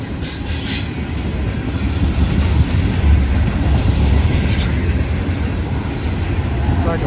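A freight train rolls steadily past up close, a Burlington Northern boxcar among the cars, its wheels rumbling and clattering continuously with faint squeals.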